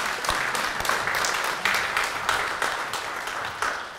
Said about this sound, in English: Round of applause indeed.